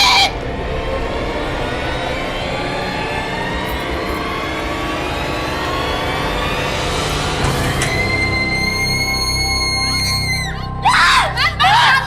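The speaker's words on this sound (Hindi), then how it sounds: "आप इतना चीख क्यों रही थी?" A woman screams in a drawn-out, rising wail within a Hindi horror TV drama, layered over a loud dramatic roar, ending with sharp high shrieks.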